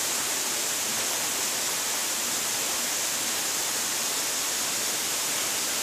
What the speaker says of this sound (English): It has a really cool waterfall feature.